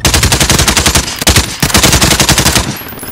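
Rapid automatic gunfire in the Call of Duty game rattles out loud and close in dense back-to-back bursts, with one brief break near the middle before the shooting resumes.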